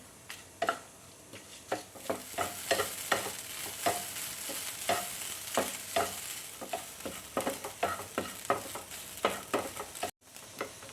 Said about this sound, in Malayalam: ഒരു മീഡിയം ഫ്ലെയിമിൽ വെച്ച് വേണം കേട്ടോ തേങ്ങ വറുത്തെടുക്കാനായിട്ട്